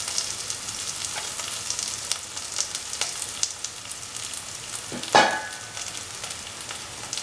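Tender mango and onions with curry leaves and salt sizzle steadily in a pan for a coconut milk stew, a constant close frying hiss with small pops and a sharp scrape of stirring partway through, no talk.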